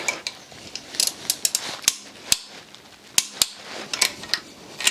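Torque wrench clicking repeatedly as bolts on a Mini Cooper S turbo oil feed and return line are tightened to 25 newton meters, a series of sharp, close metallic clicks at irregular intervals over mechanical handling noise.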